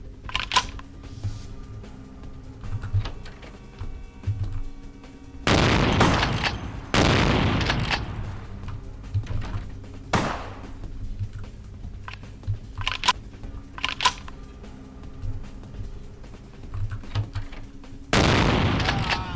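Shotgun blasts in the video game Vampire the Masquerade Bloodlines, several loud booming shots spaced a few seconds apart over a low ambient game background.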